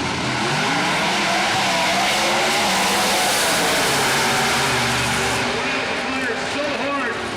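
A Pro Mod drag race car runs at an IHRA Spring Nationals meet at Rockingham, North Carolina, its engine a loud, sustained roar throughout as an announcer talks over it.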